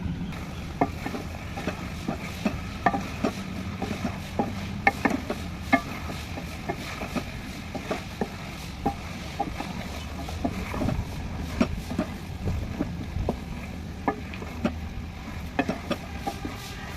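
Okra and chicken frying in a pan, a low steady sizzle broken by repeated scraping and clinking strokes of stirring, close and moderately loud throughout.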